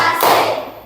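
A single loud clap from a group of people clapping together on a count, one sharp burst that fades quickly, heard up close with no talk over it.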